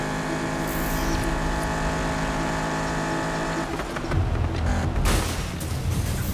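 A car in Need for Speed 2015 roars along under steady, loud engine drone, and partway through the pitch and texture shift as it pushes harder and accelerates, with gritty road and wind noise on top.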